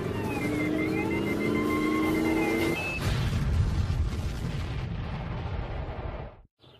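A landmine blast wrecks a vehicle at a restricted city perimeter in a video game, sounding as a loud, rumbling explosion with crackling debris over engine hum, lasting several seconds before cutting out abruptly.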